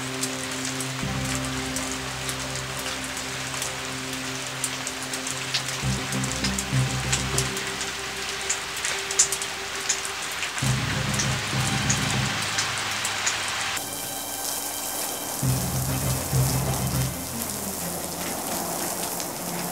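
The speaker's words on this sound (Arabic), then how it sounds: "ياه دي بتشتي قوي." Heavy rain pours steadily and loudly, a dense continuous wash of drops hitting surfaces, with a brief low rumble underneath and no voices.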